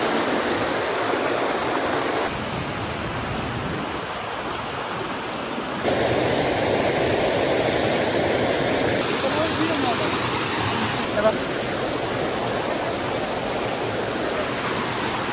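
River water rushing steadily during a monsoon trip near Bhimashankar, a broad continuous hiss of flowing current close by, with people talking over it.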